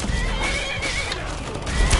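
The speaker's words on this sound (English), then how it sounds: "And the horses are attacking him." Horses neigh and whinny close by in the Skyrim VR video game, with hooves clattering underneath during a fight with a blood dragon, the calls rising loudest near the end.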